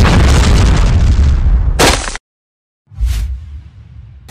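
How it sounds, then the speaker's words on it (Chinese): A bomb card explodes in a Chinese chess-and-card video game: a loud booming blast with a sharp burst near its end, then a brief silence and a second, quieter whooshing thud. "这炸弹是随机的，对面运气太差了。"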